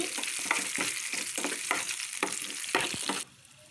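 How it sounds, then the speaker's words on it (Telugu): Onion pieces with green chillies frying in a pan, a close, steady sizzle broken by rhythmic scraping stirs, cutting off abruptly near the end. "కొంచెం ఆనియన్ ముక్కలు కొంచెం ఫ్రై అవ్వనివ్వాలి"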